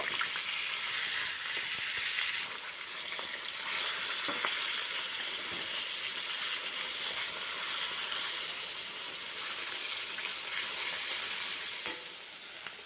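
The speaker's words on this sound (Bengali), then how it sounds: "মাছগুলো ভাজা হতে হতে আমি এদিকে মানকচুটাকে কেটে ধুয়ে নিয়ে নিয়েছি এক পিট ভাজা হয়ে গেছে এবার উল্টিয়ে দেব" Pieces of katla fish frying in hot oil give a continuous, close sizzle, with occasional scraping and clattering as the pieces are stirred and flipped in the pan, and no talking.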